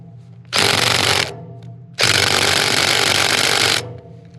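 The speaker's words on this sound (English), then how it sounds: "So we'll see if this little impact is going to work with my swivel." A small impact wrench fitted with a swivel and extension hammers at rake gearbox bolts in two loud close bursts, a short one and then a longer one, with quiet gaps between them.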